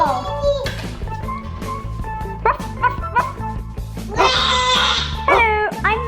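A child-like voice imitates a dog, barking "ruff" in short repeated bursts among other playful talk and squeals, close and lively.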